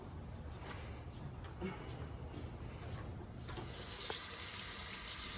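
About twenty pounds of tomatoes are washed under running water in a sink, a steady faint splashing and rushing from the tap with some handling rubs, growing a little louder near the end, without talk.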